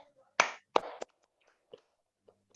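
Three quick, crisp hand claps from participants in a Zoom civil-servant training session, close and slightly clipped by the call audio, trailed by a few faint scattered ticks and quiet background sounds.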